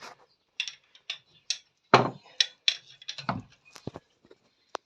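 A wrench ratchets in short bursts while tightening cylinder head bolts on a BMW 316i turbo build, giving sharp clicking runs with small pauses, close and moderately loud, with no talk.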